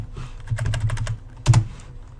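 Fingers type on a computer keyboard while writing HTML, a quick close burst of clicking keys, a brief pause, then a couple of firmer keystrokes, with no talk.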